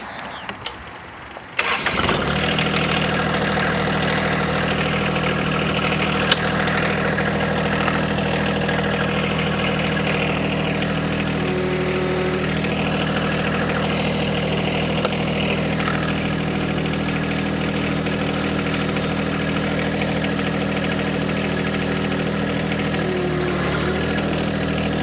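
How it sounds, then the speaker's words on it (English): A tractor engine starts in four-wheel drive, with a short cranking burst, and then settles into a steady, close, loud idle that runs unbroken with a low hum. "This tractor should have no trouble pulling that out."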